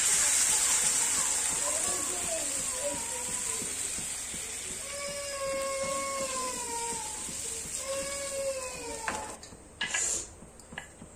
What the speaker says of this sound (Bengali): এইদিকে দিয়ে আমি দিয়ে দিচ্ছি জল